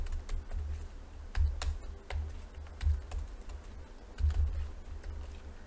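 Code is typed on a computer keyboard in a quiet room, with soft, close, irregular keystrokes in short bursts and pauses.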